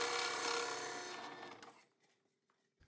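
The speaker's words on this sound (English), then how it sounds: "Next, I drilled the holes for the hinges" A drill press whirs with a steady, bright drilling noise for over a second while boring hinge holes, then winds down and stops, leaving near silence and a faint click.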